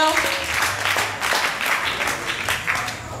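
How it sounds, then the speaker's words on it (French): A church congregation applauds in praise, a steady wash of clapping with a few voices mixed in, moderately loud and continuous throughout. "Applaudissons pour le Seigneur"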